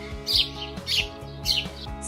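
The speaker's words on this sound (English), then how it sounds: "Sparrows have sweet, chirpy voices" A sparrow chirps in three bright, brief bursts spaced evenly over a steady musical backing, the calls clear and fairly close.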